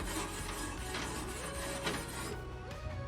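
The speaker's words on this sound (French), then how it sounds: "On utilise la brosse en T. On va gratter" A T-shaped brush scrapes steadily across a cold barbecue grill, a continuous dense rasping scrub that stays loud and close throughout with no pauses.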